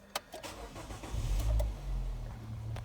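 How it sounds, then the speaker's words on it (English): A 2008 Nissan Note 1.6 petrol hatchback with an automatic gearbox starts up close by: a brief starter whir catches into a low engine rumble that settles to a steady idle, with a few faint clicks and no talking. "So let's start the car first."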